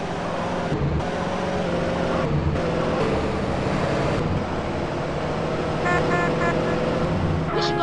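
Car engine driving in the game GTA San Andreas, a steady loud roadway drone with a few horn-like toots near the end and no talk.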